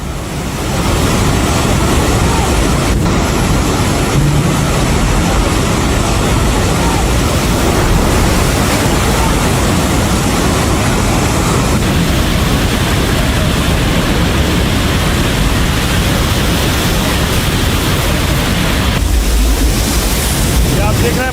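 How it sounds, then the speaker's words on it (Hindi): Fast, powerful flash-flood water rushing through a bus depot near the China–Nepal border, a steady loud roaring wash with wind buffeting, continuous throughout, with a voice talking over it. "इतनी तेज पानी आया है कि खिलौनों की तरह बस पानी में बहती हुई चली गई"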